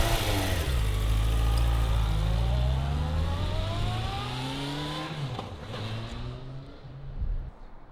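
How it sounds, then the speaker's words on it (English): A motorcycle on a slow test ride around the block, its engine loud and close as it revs up through rising pitch sweeps, eases off, then accelerates again near the end. "I'm just test riding it right now around the block"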